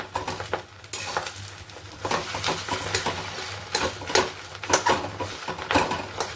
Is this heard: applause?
no